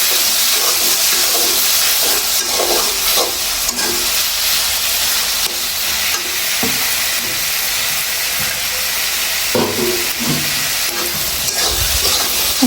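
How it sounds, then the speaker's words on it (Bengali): Boiled potatoes being mashed into a simmering vegetable curry with lentils and okra, giving a continuous loud bubbling hiss with soft, irregular squelching knocks from the spoon. "আলুগুলো আমি চিটকিয়ে দেব যাতে ঝোলটা অনেক আঠালো হয়"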